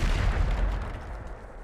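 A Bombarda spell explosion in Hogwarts Legacy booms with a deep, heavy burst that rolls off and fades quickly, close and loud.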